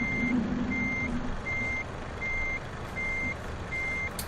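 Reversing alarm beeps from a truck with an articulated-axle trailer in Euro Truck Simulator 2, six steady evenly spaced tones over a low engine rumble, with a brief air-brake style hiss near the start.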